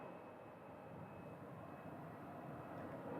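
A DHL Boeing 737 taxiing at Phoenix Sky Harbor Airport after landing from Reno, a faint, steady distant jet engine rumble and hum with a thin constant whine, no voices.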